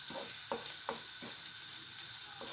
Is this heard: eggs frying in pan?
yes